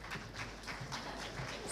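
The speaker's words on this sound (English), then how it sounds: "please keep clapping" Audience applause at a university convocation ceremony, a dense, steady patter of many hands clapping, moderately faint and continuous over a short stretch.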